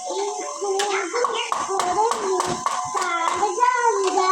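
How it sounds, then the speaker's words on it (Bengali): Young children clap their hands in an irregular rhythm, sharp close claps mixed with their chanting and talking voices. "সুন্দর হয়েছে হাততালি"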